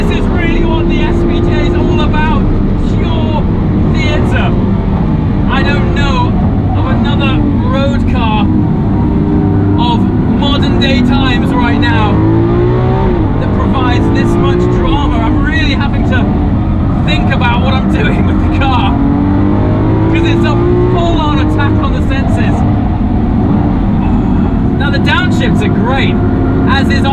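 A Lamborghini Aventador SVJ with an automated single-clutch gearbox is driven at full throttle; the loud engine repeatedly climbs in pitch and drops briefly at each upshift, while someone talks over it.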